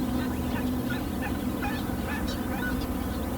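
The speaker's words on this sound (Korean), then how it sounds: "어미는 둥지 밖에서 새끼를 부른다." Black-headed gull mother calling her chick from outside the nest, a run of short repeated cries over a steady busy background of other birds at a colony.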